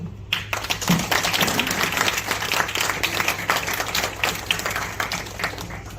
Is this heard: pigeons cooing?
no